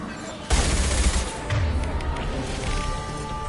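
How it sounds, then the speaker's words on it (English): Gunfire in the Mass Effect 2 video game: a sudden loud burst of shots breaks in, followed by rapid thumping impacts and booms, with game sounds and brief voice fragments mixed in. "Firing a high-impact shot!"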